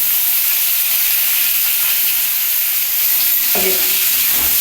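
Bitter gourd and potato pieces frying in oil give a steady, close, hissing sizzle, with a short clatter of utensils near the end and no talk.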